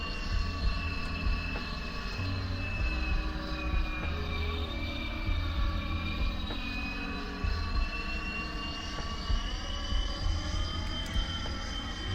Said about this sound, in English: Oh, the helicopter works.